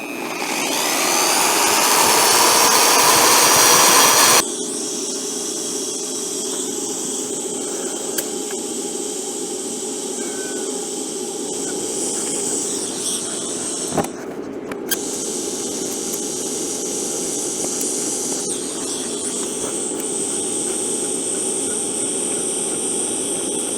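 A TIG welder with a contaminated tungsten electrode runs a steady arc hiss. A louder, harsher burst opens, then the hiss settles into a continuous buzz with a couple of brief crackles, close and without talk.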